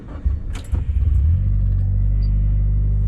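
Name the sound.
Mitsubishi Lancer Evo 9 engine starting up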